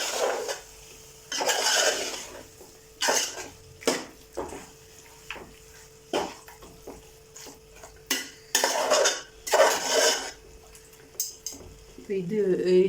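Chicken goes into a cooking pot for curry, with a run of clattering metal knocks, scrapes and spoon-on-pot stirring in uneven bursts, close up, under a faint sizzle and occasional speech.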